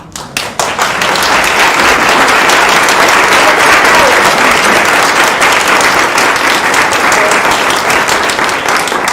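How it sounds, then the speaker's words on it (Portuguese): Audience applause erupts and holds as a dense, loud, sustained wash of clapping across the whole stretch. "palmas para ela e para o meu pai e para todos que vieram antes"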